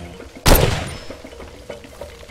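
A single heavy mortar blast from Far Cry 2 erupts suddenly and loud, then fades out over a second or so into faint ambient battlefield noise with a few soft distant thuds.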